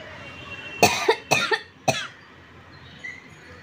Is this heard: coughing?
yes